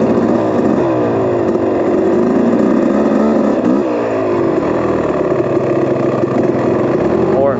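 A motorcycle engine revs up and down unevenly while the clutch is feathered out, a loud, close, rumbling drone with people talking over it.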